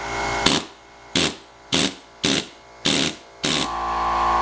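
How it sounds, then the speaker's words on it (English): Six short, loud bursts from an air hammer breaking out a masonry chimney, each about a quarter second, separated by pauses, with a steady air-compressor hum between them. "we've got a little helpful air hammer"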